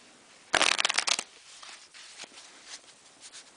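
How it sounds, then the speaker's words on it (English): A quick, loud riffle shuffle of playing cards, a dense flutter of snapping cards, followed by softer shuffling handling sounds. "let's start with a riffle shuffle"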